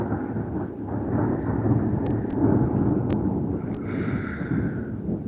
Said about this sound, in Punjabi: ਬਿਜਲੀ ਵੀ ਲਸ਼ਕ ਰਹੀ ਹੈ ਬੱਦਲ ਵੀ ਕੜਕ ਰਿਹਾ ਹੈ